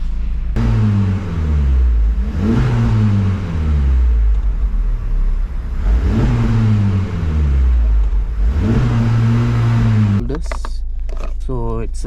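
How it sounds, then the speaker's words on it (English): A Honda Civic Type R FL5 engine in sport mode revs hard four times in a row, each rising roar falling back to idle, loud and close, ending with a brief clatter. "let's see how she revs in sport mode"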